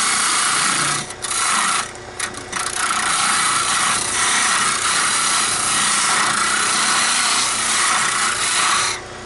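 A wooden mushroom spins on a wood lathe while a tool cuts it, giving a steady, continuous scraping and hissing rub that stays fairly loud throughout, with a few brief lighter pauses.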